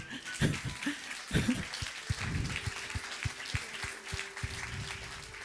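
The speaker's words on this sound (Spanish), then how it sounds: "Denle un aplauso al Señor." A church congregation claps at a Spanish-language family service, with scattered, uneven hand claps rising and thinning out and a few sharp individual claps standing out near the listener.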